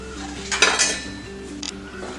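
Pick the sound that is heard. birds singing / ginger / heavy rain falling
ginger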